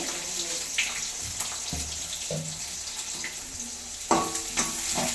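Onions roasting in a pan give a steady frying hiss, with repeated clinks and scrapes of a spoon stirring them, close up and without speech.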